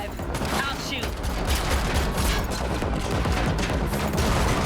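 Sustained bursts of gunfire during a car chase in The Matrix Awakens, an Unreal Engine 5 game, loud and dense with rapid overlapping shots amid engine and crash noise for several seconds.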